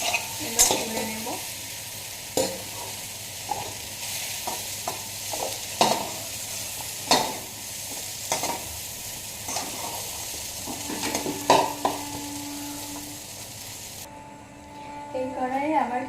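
Soybean chunks and potato fry in oil in a kadai, a low steady sizzle broken by repeated scraping and clanking strokes of a spatula stirring the pan, with a voice heard at times.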